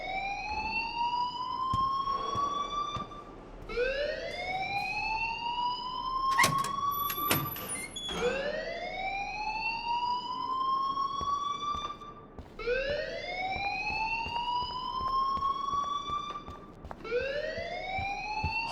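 An alarm wails in the video game Life is Strange Remastered, a loud electronic siren sweeping upward in repeated rising whoops, about one every three seconds, with a brief clatter partway through and no talking.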